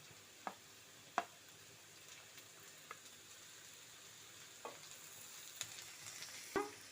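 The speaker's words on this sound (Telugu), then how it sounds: "కరివేపాకు వేస్తున్నాను." Curry leaves frying in a pan with softened onions and carrots, a faint steady sizzle broken by several soft stirring and spatula scrapes spread unevenly across the clip.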